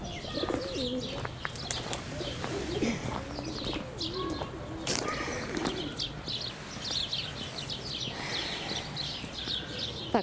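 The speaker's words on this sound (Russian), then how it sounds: "Птицы." Pigeons cooing and small birds chirping at a zoo, repeated soft low coos mixed with frequent bright chirps, moderately close over a busy outdoor background.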